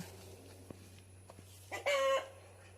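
A chicken gives a short, loud burst of clucking after a couple of faint ticks, close by in an otherwise quiet setting.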